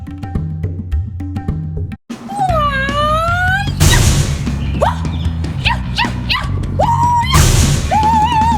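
A small dog whimpers and yips in a rising, whiny pitch over a busy background with music-like tones, the cries repeating in short bursts at close range.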